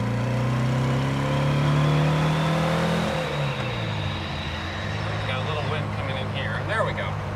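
A Porsche 356 B with a 60 hp engine revs hard as it pulls away, the loud engine note climbing then dropping with a shift, up close from inside the car, with a voice talking over it.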